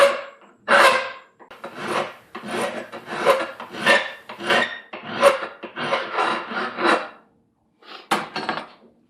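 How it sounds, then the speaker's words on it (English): A metal file rasps along the edge of aluminum bracket pieces in a steady series of close, scratchy strokes, roughly ten back-and-forth passes, with a brief pause before a final couple of strokes. "I'm going to try and clean up the edge here, just so that they're the same length and angle and everything."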